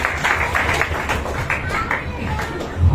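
A church congregation claps loudly together during a Feast of Tabernacles service, giving a dense, rhythmic patter of many hands with voices mixed in.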